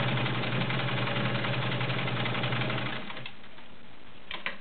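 A vintage Kenmore Model 1750 heavy-duty sewing machine with a 1.2 amp motor runs a zigzag stitch, a steady close mechanical hum and clatter for about three seconds before easing off, with a few faint ticks at the end.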